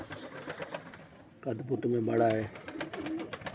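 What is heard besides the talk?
pigeons cooing in Karachi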